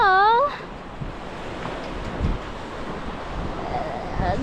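Waves wash onto Bikini Beach in Phan Thiet, a soft continuous surf roar mixed with wind buffeting the microphone, after a brief whistle-like tone at the start.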